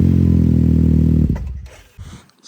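A motorcycle fitted with an HMF big-core side exit exhaust idles loudly with a rapid, even low-pitched thrum, then cuts off, leaving a few clattering knocks and near-silence.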